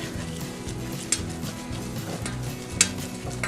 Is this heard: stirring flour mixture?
yes